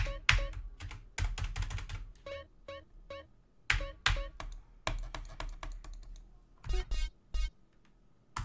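Computer keyboard keys pressed repeatedly while setting up GTA San Andreas on a PC, including the Enter key, giving a fast, uneven run of close, crisp clicks and taps with short pauses between bursts.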